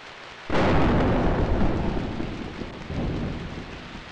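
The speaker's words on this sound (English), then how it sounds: "I like the rain effects." Rain and thunder effects from the video game Dreamweb: a sudden loud thunderclap breaks over steady heavy rainfall, then rumbles and fades while the rain keeps hissing, with a second swell of rumble near the end.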